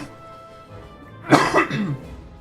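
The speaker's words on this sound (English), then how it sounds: "Our coughing might not allow us to do a whole lot more." A person coughs and clears their throat in a short, rough burst, close and fairly loud, after a quiet stretch.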